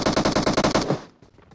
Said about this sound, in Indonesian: Ditembak musuh bang